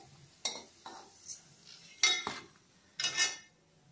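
A metal utensil scraping and clinking against a frying pan while fried banana fritters (pazham pori) are lifted out, in four or five short, close, distinct bursts separated by brief pauses.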